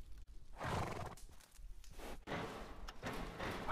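A horse moves about nearby with hoof clops and a snorting whinny, rustling and thuds mixed in, no talking.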